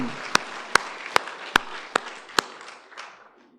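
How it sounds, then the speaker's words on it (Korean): A church congregation applauds during a sermon, a soft wash of clapping underneath half a dozen sharp, evenly spaced loud claps that fade out over a few seconds. "이 큰 승리를 주신 우리 하나님께 다시 한번 큰 박수 올려드립니다."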